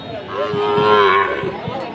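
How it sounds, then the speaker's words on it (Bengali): A young Sahiwal bull calf gives a single drawn-out moo, close and clear, against quiet background noise at the Rustampur cattle market in Rajshahi. "ষাঁড় বাচ্চা।"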